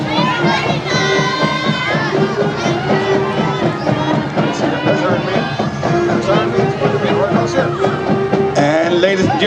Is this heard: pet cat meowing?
no